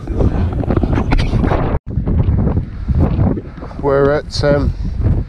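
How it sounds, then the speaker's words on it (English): Strong gusting wind buffets the microphone on a misty Welsh mountain near Snowdon, a loud, continuous roar throughout, with people talking over it. "This is the worst wind and visibility that we've had all day."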